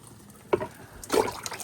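Water trickles and splashes in two short bursts while plants upstairs are watered by hand, fairly close and without talk.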